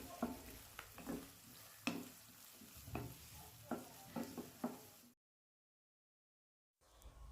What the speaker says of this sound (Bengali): খুব ভালোভাবে পেঁয়াজগুলোকে ভেজে নেব